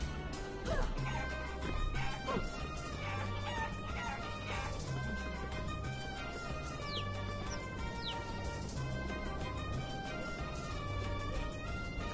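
Chickens cluck and squawk in the video game Guacamelee over a busy backdrop of music and game effects, with occasional crowing and a dog-like bark mixed in.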